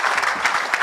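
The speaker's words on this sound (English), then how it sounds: "Round of applause." Audience applause at a surgical society conference in Kenya, a dense steady wash of many hands clapping for under a second with no voices.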